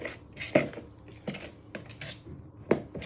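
A knife scrapes and clinks against a bowl while mixing and binding gingerbread dough, giving irregular metallic taps and scraping strokes at close range.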